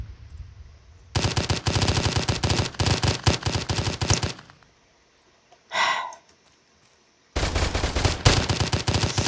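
Golden gamepass guns in Roblox fire in two long, loud rapid-fire bursts of dense rattling shots, separated by a quiet gap with a short breathy sound.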